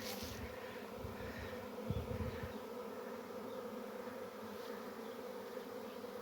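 A honeybee swarm hums over an acacia tree in a garden on an early evening, a steady, dense buzzing drone that fills the air continuously, with a few lower rumbles near the start.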